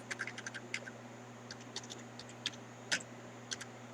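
Quiet typing on a computer keyboard: scattered, irregular clicks, some in quick bursts, with a sharper tap near the end over a low background hum.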